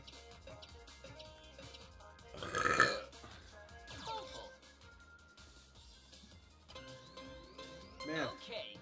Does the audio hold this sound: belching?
yes